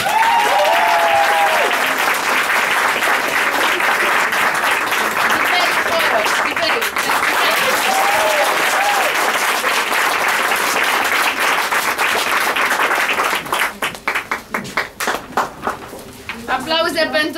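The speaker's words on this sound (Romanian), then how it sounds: "Aplauze pentru Arlechino, Roxana Miu" A theater audience at a performance of Goldoni's play "Mincinosul" in Bucharest claps in a dense, sustained wave that thins into scattered claps near the end, with a voice speaking over it.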